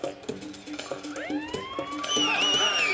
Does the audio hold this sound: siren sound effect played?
yes